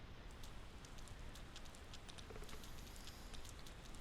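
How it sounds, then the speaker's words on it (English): Steady rain ambience from the video game Persona 4 Golden on a stormy day, a soft continuous patter with scattered droplet ticks, quiet and even throughout with no voices. "Ooh, it's a rainy, thundery day."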